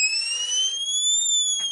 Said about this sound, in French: Allez, désactiver l'alarme.